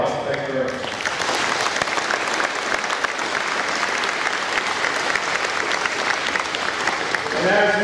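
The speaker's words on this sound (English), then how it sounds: "again, a round of applause" Crowd in the stands applauding at the St John's First York Branch annual parade inspection, sustained, even clapping with a voice over a loudspeaker at the start and end.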